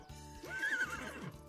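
A horse neighing in The Sims 3, one close, loud whinny that rises and shakes briefly, with faint game sounds underneath.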